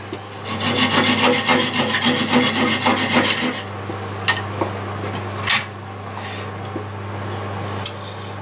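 A hand saw rasps rapidly back and forth through cherry wood for several seconds, then stops, leaving a steady hum and a few light knocks and clicks.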